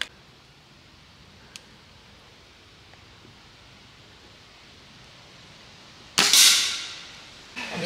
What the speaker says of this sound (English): So I'm going to have a shot now with Tom.